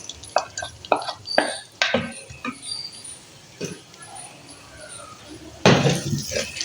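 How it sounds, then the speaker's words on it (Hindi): Chopped onions go into a pan at home, with a sharp clatter and a few scraping stirs, followed by a louder burst of sizzling and rustling near the end. "अब मैं इसमें ये प्याज शामिल कर दूंगी।"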